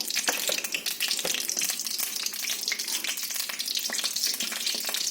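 Mustard seeds frying in hot oil in a pan, a dense crackling sizzle with rapid popping, steady and close throughout with no voices.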